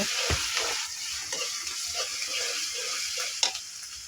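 Garlic and onion frying in a pan over a wood-fired stove, a constant close sizzle with irregular spoon scrapes and a sharp knock near the end.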